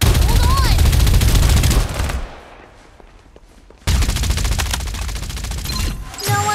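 Rapid automatic gunfire rattles loudly in the mobile battle game Farlight 84, dense bursts for about two seconds, a short lull with quieter shots, then another sustained volley.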